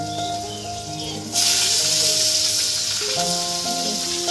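Vegetables sizzle and fry in a home kitchen, a steady close hiss that suddenly grows louder and brighter partway through, with faint tonal background sounds underneath.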